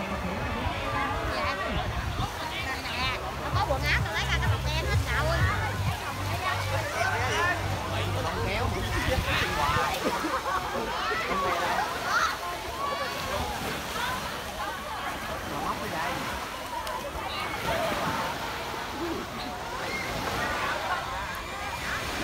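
Busy beach in the sea at Bãi Bàng in summer, with waves sloshing and water splashing continuously under a crowd's babble and nearby talking voices throughout.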